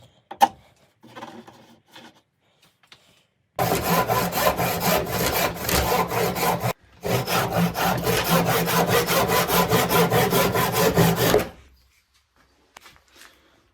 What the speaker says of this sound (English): by sort of working really slowly and sort of chipping away, you can kind of start to create that dome